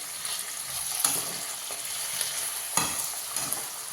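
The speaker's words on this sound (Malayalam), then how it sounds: "ഇനി നല്ലപോലെ മിക്സ് ചെയ്യണം" Chili powder and salt being mixed into food in a pan, with steady sizzling and repeated scraping stir strokes, close and moderately loud, with no talking.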